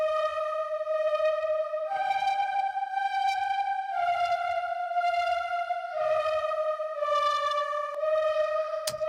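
A Diva synthesizer plays a bright, sustained lead line with rich harmonics in a song chorus, holding notes that step in pitch every couple of seconds over faint low percussion, with no other instruments prominent.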